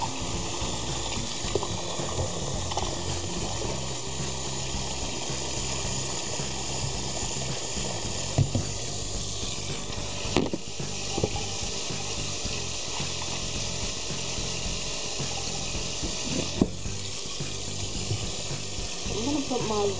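Water runs steadily from a tap over salted oxtails being rinsed, a continuous close rushing and splashing with occasional knocks of handling, and someone speaking softly over it.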